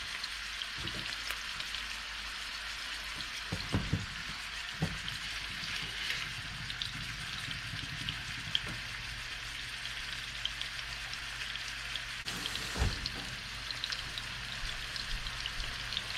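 Chicken pieces frying in a pan give a steady, close hiss of sizzling and crackling, with a few soft knocks of placement and stirring and no talking.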